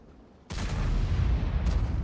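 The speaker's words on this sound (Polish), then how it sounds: "Trzyma się, Rysiek mierzy w niego. Czy trafi? Trafia! Ładny strzał polskiego youtubera" A sudden loud blast erupts and rumbles on, followed by a second sharp burst, like heavy gunfire in a game.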